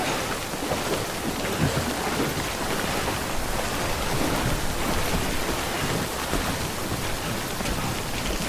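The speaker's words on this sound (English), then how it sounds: "prolonged exposure to timefall damages cargo containers. Don't stay out in the rain any longer than you have to." Steady timefall rain pours in the video game Death Stranding, a dense, continuous hiss of drops on surfaces with a low rumbling undertone, loud and unbroken throughout with no voices.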